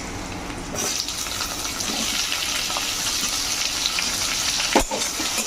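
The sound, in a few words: chopped tomatoes frying in oil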